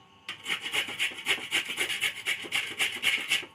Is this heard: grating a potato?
yes